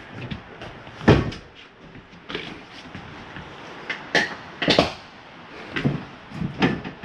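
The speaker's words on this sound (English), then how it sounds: "Let's say we want to leave the top bunk up and bring the chairs down." Folding chairs inside a 2022 XLR Hyperlite 3212 toy-hauler trailer being lowered, giving a series of sharp knocks and clunks spaced a second or so apart, close by and with no talking.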